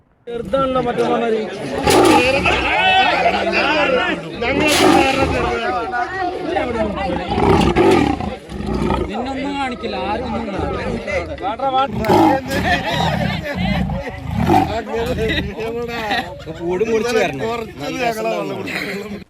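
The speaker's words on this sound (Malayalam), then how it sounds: "മണ്ണാർക്കാട് തച്ചമ്പാറയിൽ പുലി കൂട്ടിലായി" A leopard trapped in a forest department cage at Thachampara, Mannarkkad, Kerala, gives repeated loud, close, rasping roars and snarls, while onlookers chatter and murmur throughout.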